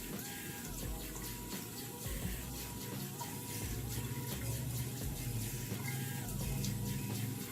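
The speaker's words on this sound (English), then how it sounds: "I want to get the hot water dripping through it" Hot tap water runs steadily from a faucet over a single-edge safety razor fitted with a GEM blade, a continuous close splashing flow with no talk.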